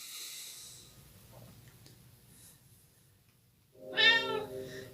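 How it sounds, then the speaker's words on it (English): A cat meows once in the Tokyo Dark video game, a clear mid-pitched call near the end after a stretch of soft breathy ambience and faint background hum. "We found the other cat."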